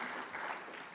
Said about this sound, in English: Round of applause to the keynote speaker by the Premier.